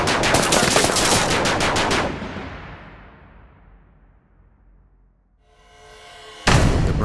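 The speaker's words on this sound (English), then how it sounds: "Browning fires around 6 bullets a second." Spitfire's Browning machine guns fire a loud, rapid burst of shots up close. The burst cuts off and a long echoing decay fades away, then a second burst starts abruptly at the end. A voice says a single word.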